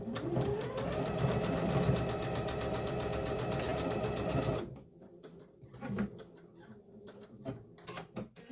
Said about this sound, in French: on va coudre à 2 cm correctement